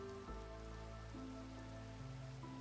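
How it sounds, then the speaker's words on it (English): Steady rain falls in the Minecraft video game, a soft continuous patter heard alone over a low sustained background tone. "Maybe we can make the rain go away."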